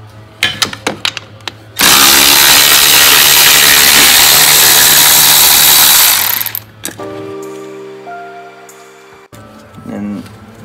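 A power tool loosens small 10mm bolts on a BMW 335xi during a single turbo install, with a few short bursts, then one loud sustained whir of about four seconds, followed by clicks and a fading whine.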